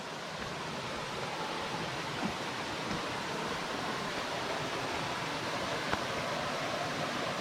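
Steady broadband rush of falling water at the Lotus Waterfall near Antalya, Turkey, a continuous even roar with no talking over it.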